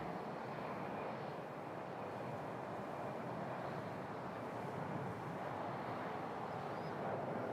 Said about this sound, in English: E175 United coming in from Washington